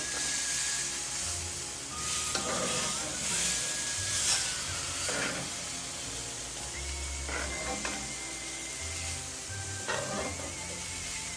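Salmon and steak basted with garlic honey glaze and butter in a stovetop pan, a continuous close sizzle with intermittent spoon scrapes and clinks against the pan throughout.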